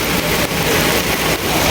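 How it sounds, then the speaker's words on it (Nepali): Heavy torrential rain pours down on a village, a steady, loud, dense hiss of water filling the whole clip without a break, with no voices. "एक्चुली गाह्रो पानी आयो नि त यी"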